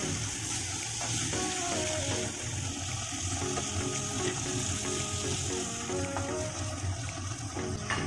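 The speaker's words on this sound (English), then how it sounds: "now I am going to add the chickens as the oil has already been separated" Chicken fries in separated oil with red spices and sugar, a steady loud sizzle filling the whole stretch, with scraping and clinks from stirring in the pan.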